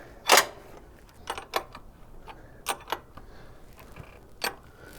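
A 13 mm wrench turns a bolt on a power steering pulley service tool while swapping the pump pulley on a Jeep XJ, giving a few sharp metallic ratcheting clicks and clacks spaced irregularly, close and fairly quiet.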